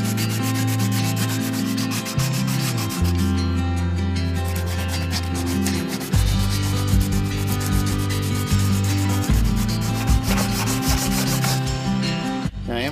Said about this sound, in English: Going to use the electric sander just because the the speed and the randomness of it does a really good job of shining this up.